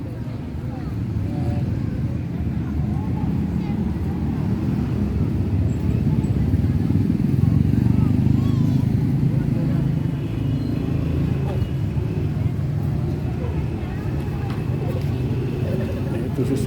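Motorcycles pass near a parish church, making a low, steady engine rumble that carries on throughout. Voices talk over it.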